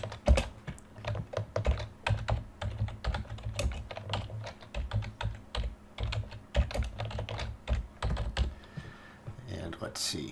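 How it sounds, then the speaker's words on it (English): Rapid clicking keystrokes on a computer keyboard, irregular bursts of close, crisp taps running throughout with brief pauses, alone with no talk. "draw my box and do some typing"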